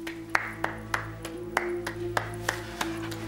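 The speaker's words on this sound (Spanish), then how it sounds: "Simplemente estoy aplaudiendo la actuación de este maravilloso actor." A single person clapping, applauding an actor's performance in a domestic drama scene; about ten sharp claps in a slow, uneven rhythm over a steady low hum, no talking.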